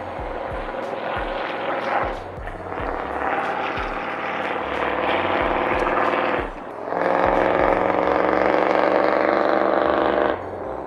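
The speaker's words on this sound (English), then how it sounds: "Truck's loud, bud." A loud truck passes near a summer lakeside perch-fishing spot, its engine rumbling in long sustained swells with a brief dip between them, heavy low-end drone throughout and no talk.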